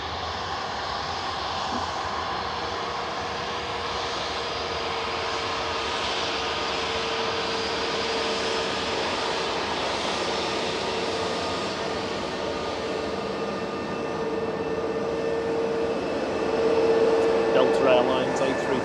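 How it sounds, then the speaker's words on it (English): An Airbus A330-900 airliner passes overhead at Manchester Airport, a steady broad engine roar holding throughout and swelling slightly near the end, with people talking beneath it. "Airlines A330-900 going above us."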